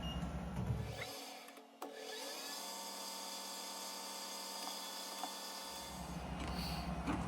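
A drill bores a 1/8 inch pilot hole in a part for a model engine fuel tank. A steady whirring tone holds for about four seconds between louder workshop noise before and after, close and unbroken.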